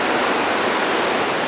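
Rushing river water in the Nahatlatch Valley, a steady broadband roar heard close by with no pauses and no voices over it.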